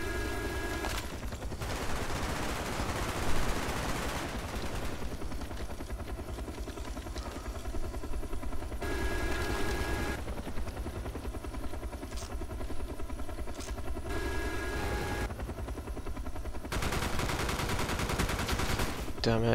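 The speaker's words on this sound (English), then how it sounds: "I did not want to get shot up by that flipping cobra." A Cobra attack helicopter strafes in Call of Duty: Black Ops, its loud rotor drone and rapid gunfire running in long stretches broken by short gaps, with game noise throughout.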